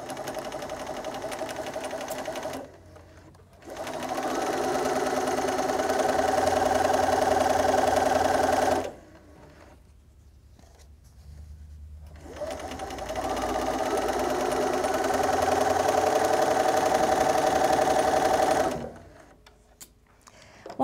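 Sewing machine chain piecing quilt block squares: two long, steady bursts of close motor whirring and needle chatter, separated by brief pauses while the next square is fed, no talk.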